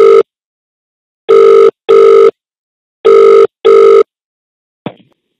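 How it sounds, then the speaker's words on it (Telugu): A telephone rings with an incoming call: loud, clean electronic double-rings repeating at a steady rhythm, followed by a short click as it is picked up, with no voices. "మీకు కాల్ వస్తుంది, దయచేసి లిఫ్ట్ చేయండి."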